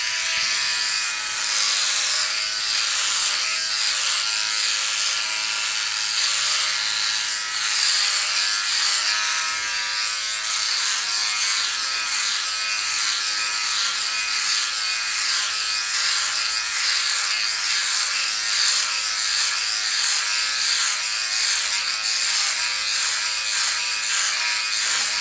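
A Philips OneBlade body trimmer runs steadily at close range with a continuous high buzzing hum, unbroken throughout, with no talking.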